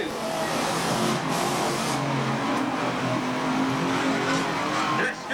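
Unlimited banger racing cars roar around the Ringwood Raceway oval in a loud, continuous blend of engines and crowd noise, with a commentator talking over the top.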